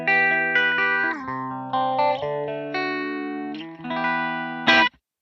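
An electric guitar plays sustained chords and notes through a Headrush Gigboard effects processor, each ringing out before the next, ending on a bright, louder strum that cuts off.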